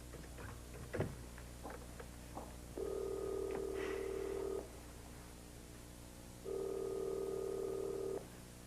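Telephone in an office, a long steady electronic tone sounds twice, each lasting about two seconds with a pause between, after a few faint clicks from handling the receiver.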